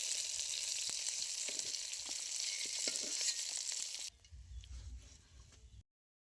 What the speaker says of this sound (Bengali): এবারে আমি সব কটা মাছ ভেজে নেব।